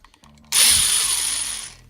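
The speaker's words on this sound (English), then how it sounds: "I have a burr attachment on my drill here." A power drill fitted with a burr attachment grinds down the broken plastic spider webs of a Whirlpool front-load washer to bare metal, starting abruptly as a loud, sustained high-pitched whine after a few quiet handling clicks.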